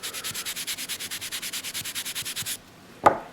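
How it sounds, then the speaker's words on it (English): A Lansky eraser block scrubbed against a steel sharpening stone in quick back-and-forth strokes, a rhythmic gritty rasp of about twenty passes that stops, then a single faint knock follows. "So basically just take your eraser and rub it off."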